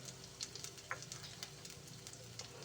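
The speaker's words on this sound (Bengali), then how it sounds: "মশলার সঙ্গে খুব ভালো করে এটাকে ভেজে নেব।" Ginger and spices, including turmeric, chili powder and cumin powder, fry in a pan for a vegetarian potato and flour snack, giving a quiet steady sizzle broken by soft crackles and stirring scrapes.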